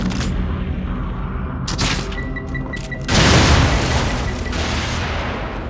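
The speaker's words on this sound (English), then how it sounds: "Chain explosion." A chain of explosions rips through a survival-horror game scene in The Evil Within, with a dense, loud burst at about three seconds that rumbles on, preceded by thuds and game noise.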